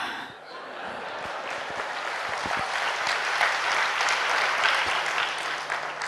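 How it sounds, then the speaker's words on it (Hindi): Seminar audience breaking into applause, clapping that swells from a quieter start into a dense, sustained roar, with some chuckles and murmured voices mixed in. "तालियां बजाइए एंड रिलैक्स।"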